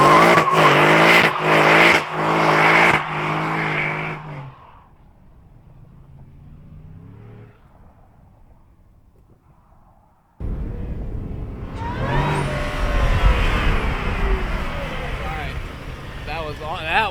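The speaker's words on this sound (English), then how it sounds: "Let's see how good of a burnout she'll do." A 2026 Ford F-150 in Argon Blue with a 3.0L Whipple supercharger roars at full throttle in pulsing bursts, drops to a brief lull, then breaks into a long, loud burnout of screeching tires and engine howl.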